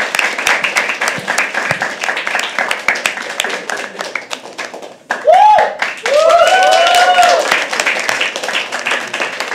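Applause from an audience at a poetry open mic at The Habitat as a poet comes on stage: dense, continuous clapping that swells louder partway through, with a few whoops and cheers rising above it.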